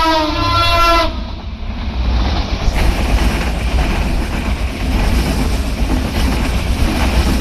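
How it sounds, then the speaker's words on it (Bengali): The Chapai Mail, hauled by a WDM 3A diesel locomotive, pulls out of Hitech City railway station in Bangladesh: a loud horn blast opens, then a heavy, continuous rumble of engine and rolling wagons close by. "হাইটেক সিটি রেলওয়ে স্টেশন ছেড়ে যাচ্ছে চাঁপাইনবাবগঞ্জ অভিমুখী চাপাই মেল"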